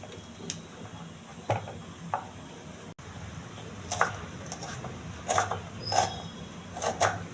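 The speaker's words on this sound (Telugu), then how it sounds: "ఉల్లిపాయను కూడా సన్నగా కట్ చేసుకోవాలి" A knife cutting onion and green chillies finely in a home kitchen, soft scattered taps and crisp cuts at an irregular pace, faint and close, with a low background hum and no talking.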